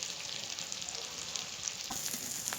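Puin fruit, the fruit of Malabar spinach, frying in oil for bhaji, giving a steady close hiss and crackle with light stirring scrapes throughout.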